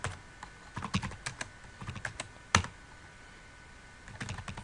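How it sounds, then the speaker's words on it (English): Typing on a computer keyboard at a Bash terminal: irregular bursts of close key clicks with short pauses and one sharper, louder keystroke partway through, no talking. "let's type the correct name"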